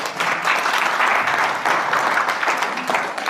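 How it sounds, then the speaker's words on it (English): An audience at a live San Diego business event bursts into applause, a dense wash of clapping that holds strong for a few seconds before easing slightly. "Give Eric a round of applause."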